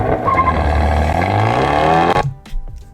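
A tuned Fiat 124 Spider launches hard on launch control, its engine roaring loudly and rising in pitch through the gear, then cutting off abruptly before a brief lower rumble, close and dominant.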